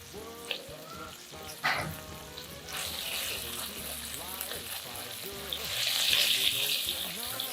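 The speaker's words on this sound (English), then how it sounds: "Cook the shrimps for 2 minutes each side." Shrimps frying in a pan, a steady hiss of sizzling that swells louder near the end, with clinks and kitchen handling sounds scattered throughout.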